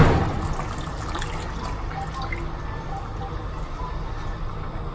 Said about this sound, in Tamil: நான் இங்கே வந்து திக்கான தேங்காய் பால் வச்சுருக்கேன். இது வந்து 1 கப் ஊற்றிக்கிறேங்க